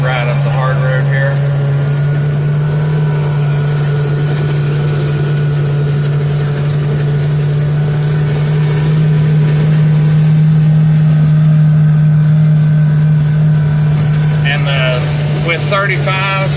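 A Kawasaki Krew UTV on 35-inch tires and a JBS clutch spring kit runs along a hard road, its engine giving a steady loud low drone that holds throughout, with voices talking over it near the end.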